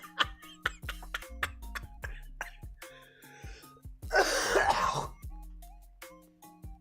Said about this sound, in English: I'm so sorry. I keep coughing